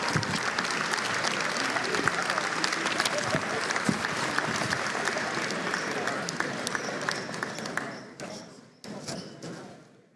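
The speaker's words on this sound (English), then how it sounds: "give an applause to all of our senior athletes" Basketball game crowd at Madison Central vs. Covington Catholic applauding senior athletes, sustained loud clapping and crowd noise in a gym that tapers off near the end, with a few sharp thuds and claps lingering.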